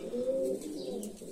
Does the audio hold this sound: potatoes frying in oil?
no